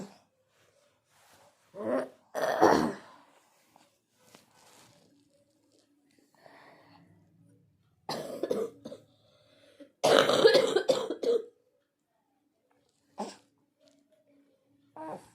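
A woman coughs several times in short, separate bursts spread across a quiet room, each rough and close, with faint small sounds in the gaps between them.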